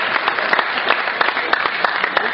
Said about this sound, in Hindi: एक बार सोमनाथ भैया की ताली मिला दीजिए,